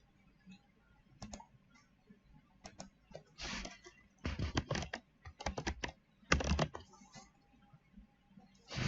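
Fingers type on a computer keyboard, quick irregular bursts of close, crisp key clicks with short pauses between words, growing busier toward the end.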